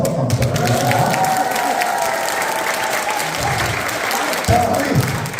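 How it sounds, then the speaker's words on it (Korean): A room of university students on a Gyeongju retreat applauds the team leaders, sustained crowd clapping with scattered cheers and voices mixed in. "팀장님께 다시 한번 심장 박수 한번 부탁드리겠습니다"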